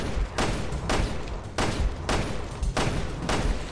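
Gunshots in the video game Resident Evil Revelations 2, five or six loud, sharp reports fired at a steady, unhurried pace about every half second, close and alone with no talk.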